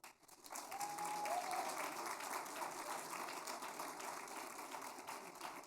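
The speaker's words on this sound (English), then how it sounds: "please give a big round of applause to our March Partner of the Month" Sustained applause from an audience at a school board of trustees meeting, honoring an Army air and missile defense test unit from Fort Bliss; steady clapping fills the room for several seconds after a brief rise.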